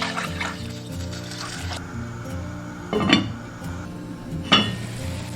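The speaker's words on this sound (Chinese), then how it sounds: "倒入清水大火煮开。" Clear water pouring into a pot of stir-fried tomatoes for mushroom soup, a steady liquid rush with a couple of louder clanks of a utensil against the pot.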